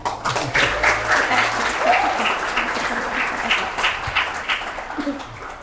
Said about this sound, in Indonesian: Saya minta tepuk tangannya yang sangat meriah.